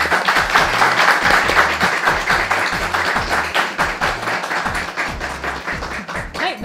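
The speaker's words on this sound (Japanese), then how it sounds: "皆さん盛大な拍手でお迎えください" A studio audience at a public radio recording gives a warm round of applause to welcome a guest, steady close clapping with some rhythmic tapping and thumps underneath.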